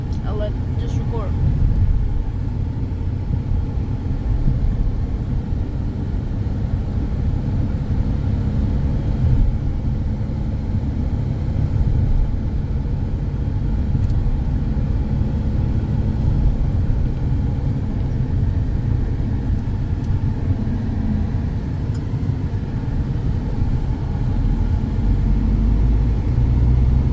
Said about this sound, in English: So we're just driving towards it right now.